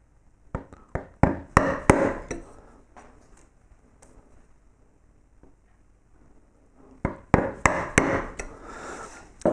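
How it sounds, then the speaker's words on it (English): Chisel making angle cuts in wood while carving Celtic lettering, sharp close taps in two quick clusters with a quieter stretch between, no talk. "I swap over and I do an angle cut from the other side"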